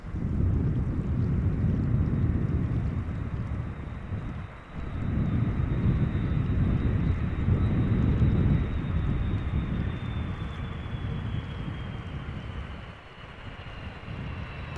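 A German Airways jet in a special chocolate livery, flying for KLM Cityhopper, roars steadily on arrival at Amsterdam Schiphol, a broad continuous rumble with a faint whine that slowly falls, mixed with wind noise.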